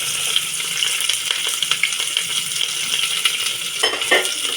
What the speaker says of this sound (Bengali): তেলটা গরম হয়ে গেছে আমার সুন্দরভাবে তো তারপর দিয়ে দিচ্ছি এই যে সে পেঁয়াজ কুচিটা